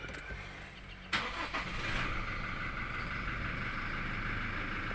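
A car engine being started during a dashboard warning light repair, a brief cranking burst around the first second that settles into a steady idle hum, with no voices over it.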